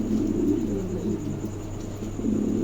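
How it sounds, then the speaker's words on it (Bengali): Pigeons at a market coo in low, soft, steady murmurs close by, with a continuous hum of other birds around them. "চমৎকার একজোড়া কবুতর"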